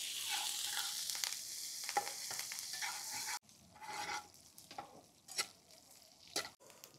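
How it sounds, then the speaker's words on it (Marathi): A village-style tadka of mustard seeds, cumin, fennel, green chilli and curry leaves for Indori poha sizzles in hot oil, a bright hiss that cuts off abruptly midway, followed by scattered stirring scrapes and crackles. "तडका व्यवस्थित मिक्स करून घेऊ।"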